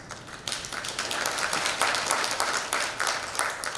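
A conference audience applauds, dense steady clapping that swells after a quiet start and holds at a moderate, roomy level with no voices over it.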